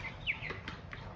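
Chicks and hens in a small home flock of about twenty birds, heard as a faint, brief chirp and soft clucking close to the ground, low in level against a quiet background.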